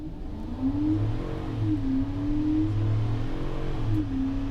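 A car under wide open throttle climbs through its gears, the engine note rising and dropping at each shift in a steady, continuous drone heard from inside the cabin.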